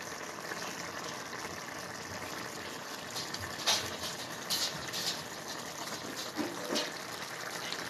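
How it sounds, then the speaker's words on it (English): Pot of curried squash with smoked fish simmering on the stove, giving a steady low bubbling and gurgling wash with a few brief louder pops, no talking. "It's bubbling good."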